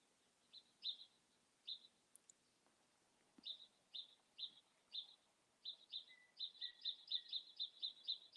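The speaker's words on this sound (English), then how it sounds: "I hope that you like the sound of the birds" Birds singing outdoors, a series of short bright chirps that begin sparse and quicken into a rapid repeated run, fairly faint against a quiet background.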